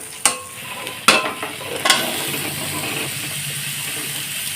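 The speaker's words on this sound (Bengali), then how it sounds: "এখন সিদ্ধ করা কাবলি ছোলাটাকে দিয়ে দেবো" Boiled kabuli chickpeas are tipped into a masala frying over a low flame and stirred, giving a few sharp scraping knocks of a spoon against the pan over a steady, soft sizzle, with no talking.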